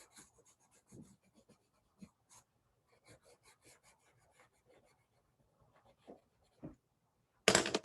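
Derwent Inktense pencil coloured onto paper in a sugar lemon shade, quiet scratchy strokes in short irregular bursts with pauses between, close and faint, ending in a louder brief rustle.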